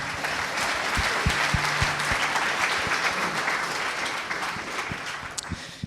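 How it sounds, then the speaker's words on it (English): An audience at a Consciousness Hacking talk event in San Francisco applauds a speaker with steady, dense clapping that stays even, with a few sharper claps near the end. "Let's have a round of applause"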